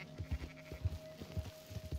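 Sheep bleating in the video game Red Dead Redemption 2, a few short faint calls repeating over a quiet low background.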